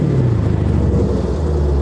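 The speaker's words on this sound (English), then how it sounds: "let's rev it in eco mode" A Dodge Charger Scat Pack engine revved in eco mode, a steady loud low rumble with a slight pitch sweep, heard close and alone.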